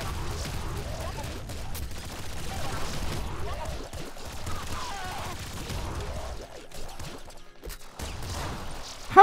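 Rapid continuous bursts from a laser minigun in Nuclear Throne, a dense crackling stream of shots with explosions and impacts mixed in, loud and sustained throughout.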